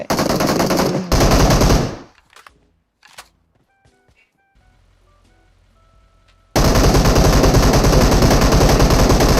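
PUBG Mobile gunfire sounds as loud, rapid automatic bursts. It cuts off into near silence with faint clicks, then a second sustained burst of close automatic fire.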